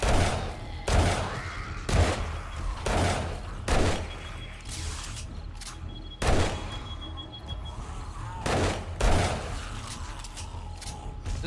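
Repeated pistol gunfire in the video game 7 Days to Die, sharp loud shots at irregular intervals with thuds and mechanical clatter during a solo base defense.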